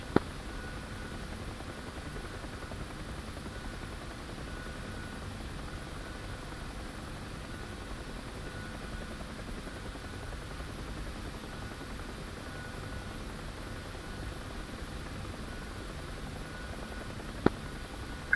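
A UH-1 helicopter in the DCS flight simulator keeps up a steady rotor and turbine drone with an even, loud hum throughout, broken only by a couple of sharp clicks.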